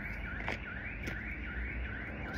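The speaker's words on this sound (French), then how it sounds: "désolé, il y a l'alarme de voiture" A car alarm wails outdoors on a hillside path with a view of the Acropolis, its rising-and-falling electronic siren cycling steadily at moderate distance over faint background noise, with no voices.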